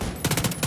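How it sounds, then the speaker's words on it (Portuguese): Rapid bursts of gunfire from the video game The Division 2, arriving as a quick run of loud repeated shots after a quiet start, over a short stretch. "Não erram quase nenhum tiro."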